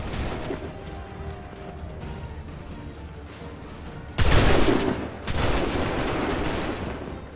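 Musket gunfire in Assassin's Creed 3 erupts as two loud volleys of massed shots over a rumbling battlefield background.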